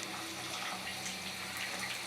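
Water pours from a kitchen tap to mix turmeric, chilli, salt and chicken masala for a chicken, pea and potato curry, a steady close rushing flow lasting throughout with no pauses.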